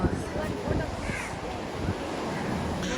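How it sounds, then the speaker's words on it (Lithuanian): Ocean waves breaking on a large beach, a continuous roaring wash of surf mixed with strong wind buffeting the microphone, heard close and loud. "Tas bangos."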